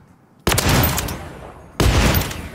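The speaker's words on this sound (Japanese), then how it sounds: "この銃声は何だろう" Two sharp bursts of gunfire in Call of Duty: Modern Warfare 3, each a loud crack followed by a sustained rattling tail, separated by about a second of decay.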